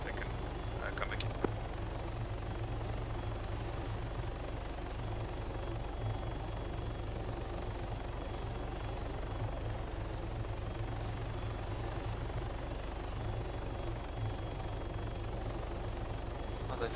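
Video game helicopter landing near crates on a landing pad, a steady loud rotor and engine drone filling the whole stretch, with faint voices speaking beneath it.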